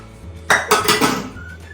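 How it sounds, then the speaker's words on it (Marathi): Metal cake pans and dishes clatter and clank together while being washed, a short burst of several knocks, close by, with no voices. "मी सगळी जी केकची भांडी घासून घेतो"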